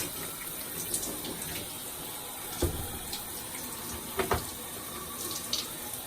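Water runs steadily from a faucet or shower while box braids are washed, a continuous close splashing hiss with occasional small knocks and drips.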